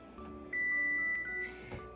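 A kitchen timer beeps with one sustained electronic tone, briefly interrupted and resuming, over a faint background hum, while linguine water boils.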